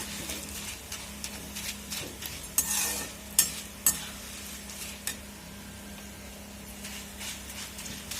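Fried jackfruit chips tossed with salt and turmeric in a pan scrape and rustle as they are stirred, with a low sizzle underneath and several sharp clacks of the spoon against the pan.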